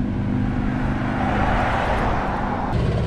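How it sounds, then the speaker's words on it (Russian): Farm tractors drive along an Austrian road beside a touring bicycle, giving a loud, close, continuous engine rumble mixed with road and wind noise throughout, with no talking. "Трактора едут одной со мной скоростью."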